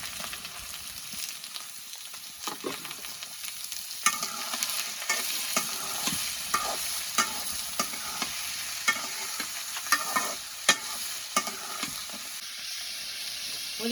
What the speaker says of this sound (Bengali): পেঁয়াজ, কাঁচামরিচ, কাঁঠাল বিচি আমি একশো মানে তেলে দিয়ে নিতেছি।